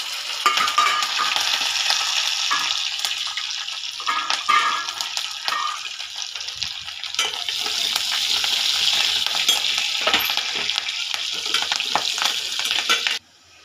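Curry leaves and garlic frying in hot oil as a tempering for gongura dal, a loud, dense sizzle and crackle close up that holds steady for the whole stretch and then cuts off abruptly, with no talk.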